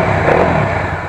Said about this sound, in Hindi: बाइक हो चुकी है स्टार्ट,